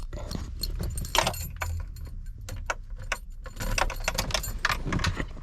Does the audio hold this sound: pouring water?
no